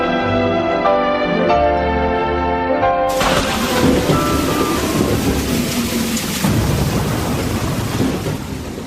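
Heavy rain with thunder, a dense steady downpour with deep rumbling thunder rolling underneath, loud and close, entering after a few seconds of music.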